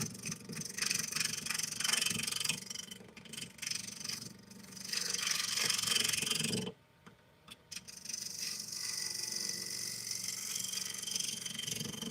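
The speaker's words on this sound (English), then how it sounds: "I'm just going to use my skew just really quick, just to try and clean up the bottom a little bit" A skew chisel cuts across the bottom of a spinning walnut and butternut turning on a wood lathe, making a steady scraping hiss with brief pauses and a short quiet gap where the tool lifts away.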